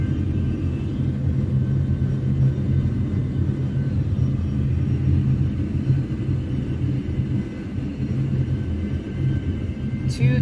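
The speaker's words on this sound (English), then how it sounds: "flyby sounds" Airliner rumble in the X-Plane 12 simulator with the KOSP soundpack on a Toliss A320 NEO, a steady low droning roar held at constant loudness throughout with no talk.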